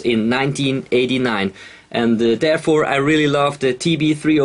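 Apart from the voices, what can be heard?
No distinct noise like a dog, phone or traffic.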